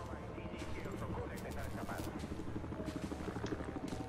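A helicopter in the shooter game Battlefield Hardline drones steadily with a throbbing low rotor pulse that grows a little louder toward the end, mixed with other game noise and someone talking over it.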